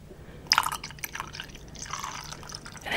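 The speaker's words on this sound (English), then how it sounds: "Let me pour my coffee." Coffee pours and trickles into a cup in a short, splashy stream, close and fairly quiet, with small clinks near the start.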